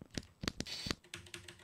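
A computer keyboard and mouse click close by during a horror game, in a quick run of distinct taps.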